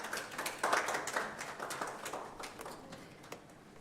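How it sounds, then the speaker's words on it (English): A conference audience gives a round of applause: many individual claps, strongest early and then gradually thinning and fading toward the end. "Let's welcome Madam Pauline with a round of applause"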